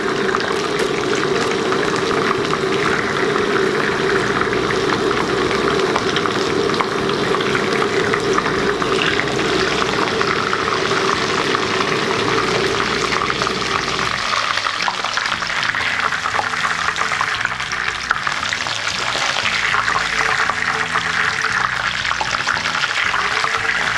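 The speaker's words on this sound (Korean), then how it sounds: "이렇게 전체적으로 튀겨졌으면은 센 불로 올려가지고" Chicken pieces deep-frying in hot oil over high heat for a Chinese-style fried chicken dish, giving a steady, dense sizzling crackle that holds for the whole stretch and turns somewhat thinner in the second half.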